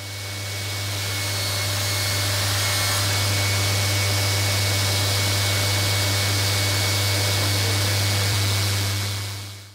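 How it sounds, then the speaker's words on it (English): A Felder Hammer K3 Winner saw with a vibrating motor runs continuously at close range, a loud steady hum with a strong low drone and rough whirring over it, winding down at the very end. "Notice the vibrations, sounds of the saw, and poor cut quality."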